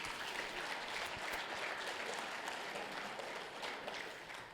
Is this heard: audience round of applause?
yes